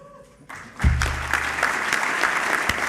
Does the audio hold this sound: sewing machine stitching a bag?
no